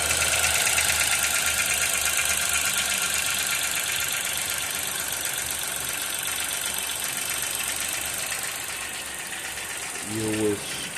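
Chevrolet Montana 2023/24 pickup with a 1.2 turbo three-cylinder engine running steadily, a continuous mechanical drone with faint ticking or knocking throughout, ending with a brief louder thump.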